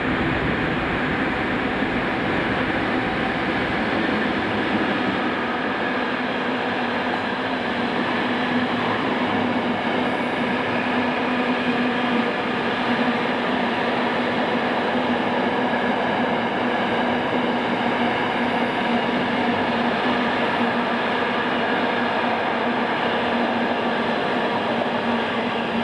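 Class 66 locomotive 66503 hauls an empty rake of IKA double flat wagons at night, a loud continuous rumble and rolling roar of wheels on rail with a steady engine drone throughout.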